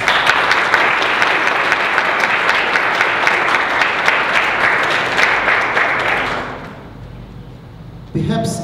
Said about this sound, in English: I would ask for a special extra applause for them.